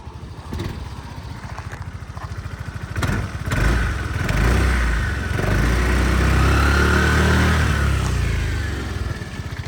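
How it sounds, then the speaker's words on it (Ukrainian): A Honda Forza MF08 fuel-injected scooter engine idles with a steady putter, then revs up and holds a louder hum before easing back down. "Гарно працює двигун."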